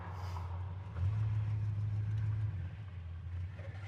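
A 1970 Oldsmobile Cutlass Supreme with power brakes and power steering drives along, its V8 engine a low, steady rumble that swells briefly and then settles, heard fairly quietly with no talking.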